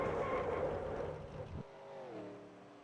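Race car engine in a stock-car racing video game at Daytona, roaring loudly as the driver tries to accelerate, then dropping to a lower, steadier tone that climbs and bends in pitch.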